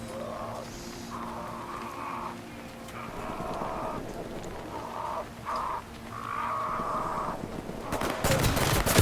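Gunfire in Ready or Not on a port map with shipping container offices, with intermittent shots and tonal game effects, building to a loud burst near the end.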